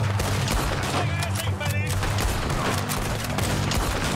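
Rapid gunfire crackles through a shootout in Red Dead Redemption 2 during the Guarma escape, a dense steady barrage with bursts overlapping, accompanied by in-game voices and heavy low rumble throughout.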